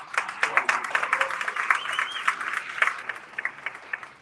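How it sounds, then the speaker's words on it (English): An event audience claps in a lively round of applause, with individual claps distinct and close, continuing steadily throughout without speech. "Give yourself a round of applause"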